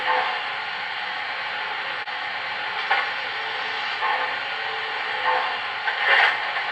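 Coal being shoveled in the sound effects of an MTH model Pennsylvania Railroad Decapod steam locomotive, heard as a steady broadband hiss with a few soft, brief scraping bursts rising and falling over it, fairly close and with no talk.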